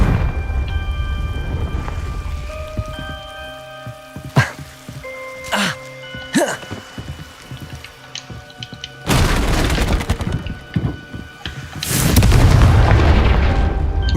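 Spell blasts in Hogwarts Legacy burst out as several sharp booming explosions, a few short hits early on and then two longer, louder roaring bursts near the end, with no one talking.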